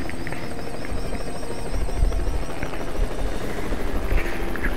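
A helicopter in Hitman, set in Paris, roars with a steady, loud rotor thrum and engine whine throughout, close and continuous with no talk.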